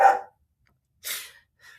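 Dog barking indoors: one loud bark, then a second bark after a pause and a fainter short yip at the end, each separated by silence.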